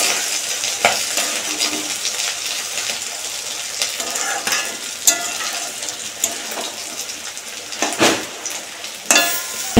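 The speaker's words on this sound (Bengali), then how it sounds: "আর এখানে মাছ ভাজা হচ্ছে" Fish frying in a pan on the stove gives a steady close sizzle for the whole stretch, with occasional clinks and scrapes of a utensil and metal cookware, and no voices.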